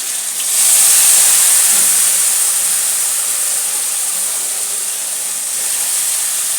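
A loud, steady sizzling hiss rises quickly and holds as spices and ingredients are poured over fried catla fish in a pan for a Bengali jhal, with no talking over it.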